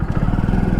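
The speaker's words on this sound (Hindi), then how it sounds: "बाइक स्टार्ट हो गई, गियर में डाला, वापस आप चल लेंगे।" Hero Splendor Xtec 2.0 motorcycle engine idling right after starting, a steady low single-cylinder putter with rapid even pulses, close and fairly loud, with no talk over it.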